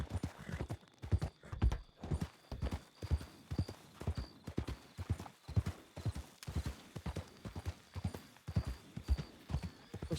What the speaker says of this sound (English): There's all wild horses just chilling there.